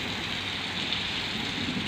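Steady rain falls during a house-cleaning outing, a dense continuous hiss of drops that stays even and close throughout with no voices.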